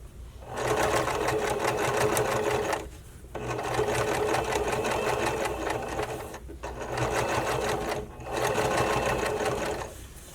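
A sewing machine stitches bra fabric in four bursts of rapid, even mechanical whirring. Short pauses break the runs, and the close, steady machine noise sounds alone.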